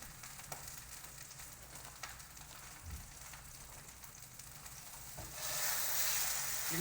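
Steak sears in olive oil in a pan with a faint sizzle, broken by a few soft scrapes and knocks. The hiss swells noticeably louder near the end, and no one speaks.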